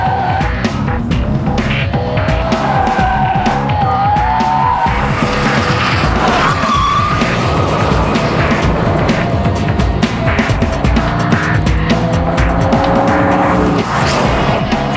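2003 Ford Mustang SVT Cobra driven hard, with loud tire squeal and skidding over a throbbing V8 engine that rises and falls through repeated bursts, close and intense throughout.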